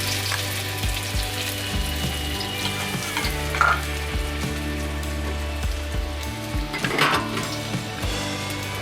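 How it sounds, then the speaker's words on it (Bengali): Chopped onion dropped into hot oil for a soybean snack: a continuous crackling sizzle with bursts of spattering as it is stirred, a low steady hum running beneath. "তেল দিয়েছি, তেলটা গরম হয়ে গেছে, পেঁয়াজটা দিয়ে দিলাম"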